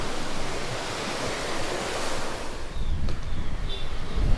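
Ocean waves rolling onto the beach at Mirissa, Sri Lanka, a steady broadband wash of surf with wind, swelling louder and closer partway through, no voices.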